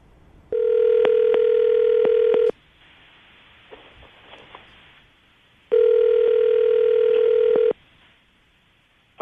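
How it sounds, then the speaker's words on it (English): Telephone dial tone sounds in two steady two-second stretches, each broken by quick keypad beeps as a number is dialed on a phone, with a quiet gap of faint room noise between them. "I'm going to dial the phone number right now"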